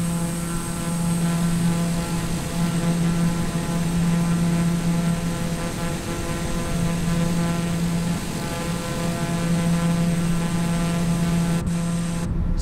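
A propeller aircraft climbs in Microsoft Flight Simulator with a steady, loud droning engine hum and a constant tonal buzz that holds throughout, uninterrupted.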